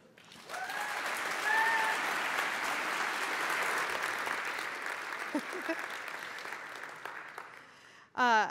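Steady applause from a conference audience welcoming a speaker to the stage, a full room clapping continuously for several seconds before fading, with a brief voice right at the end.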